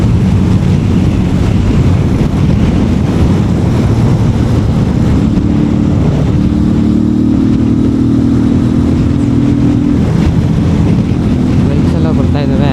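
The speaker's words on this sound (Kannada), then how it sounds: "ಬೈಕ್ಸ್ ಎಲ್ಲ ಬರ್ತಾ ಇದ್ದಾವೆ" Motorcycles ride past on a road near a toll point on the way to Gokarna. Loud, continuous engine roar and road rumble fill the whole stretch, with a steadier engine drone in the middle.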